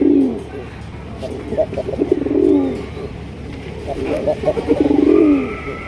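Bombay pigeons coo in repeated low, rolling phrases, close and fairly loud, with someone speaking intermittently over them.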